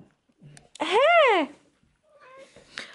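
A house cat gives one loud, drawn-out meow close by, with a few quieter sounds before it and a softer call trailing after.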